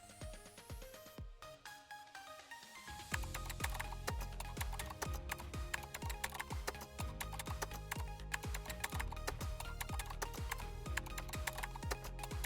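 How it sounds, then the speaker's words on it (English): Rapid, steady clicking of computer keyboard keys entering a search term in trading software, close and fairly quiet, continuing without pause after a short lead-in. "click it and type in MACD in the search bar"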